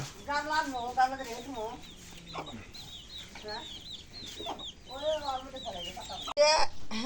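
A domestic country chicken clucks in repeated short bursts, close and fairly clear, with people talking intermittently alongside.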